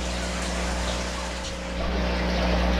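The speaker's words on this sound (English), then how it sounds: "I decided to add this bubble bar instead, and it's been putting off a lot of air bubbles and keeping the tank very oxygenated." Aquarium bubble bar in a 29-gallon tank pushing out a steady stream of air bubbles, a constant close bubbling rush with a low pump hum underneath.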